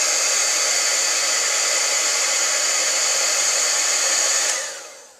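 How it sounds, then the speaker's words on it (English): A heat tool blows steadily and loudly on faux frosting for a handmade birthday card. Its constant fan-and-air whoosh runs alone and then fades away near the end as the tool pulls back. "So I'm going to pull the heat tool away, let it cool just a little bit, and then we're going to go at it with heat again."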